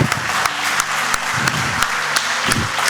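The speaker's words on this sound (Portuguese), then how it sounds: "Você pode dar uma salva de palmas para aquele que é poderoso" Church congregation claps in praise during a service, dense continuous applause with distinct sharp hand claps, fairly close and sustained throughout.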